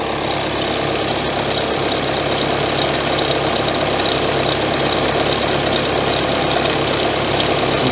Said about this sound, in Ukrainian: Ти що, там же щось калатає вже, все вже.